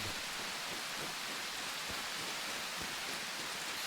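Steady rain hisses evenly throughout, a constant wash of falling drops with no voices or breaks.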